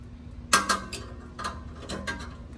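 Ratchet loosening 14mm exhaust bolts on a Toyota 4Runner: a few short, close metallic clicking bursts spaced out over a low steady hum, with no talk.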